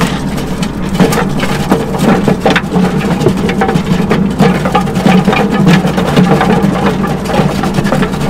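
Bait grinder running on a crab boat during Tanner crab season, a steady loud mechanical churn with a low motor hum and irregular clattering knocks throughout, no talk.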